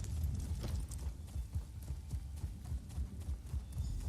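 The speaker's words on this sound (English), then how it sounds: "I should probably get on the horse, shouldn't I?" Rhythmic clip-clop of horse hooves at a steady trot in Elder Scrolls Online, close and moderately loud, with a faint hum beneath.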